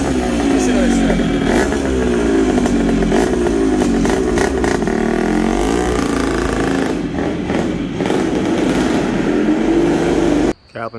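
A 1977 Honda CR125 Elsinore two-stroke motocross bike runs loud and close, its engine crackling and revving unevenly before cutting off abruptly near the end.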